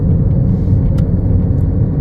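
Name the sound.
car rolling downhill gaining speed on mountain road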